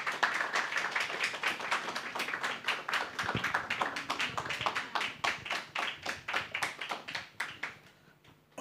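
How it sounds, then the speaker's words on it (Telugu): A church congregation claps together during a Friday Pentecostal worship service, a steady run of sharp hand claps that holds for several seconds, then thins out and fades near the end. "అందరూ కూడా చప్పట్లు కొట్టి సందీప్ కొరకు అందరూ కూడా చప్పట్లు కొట్టండి ఒకసారి"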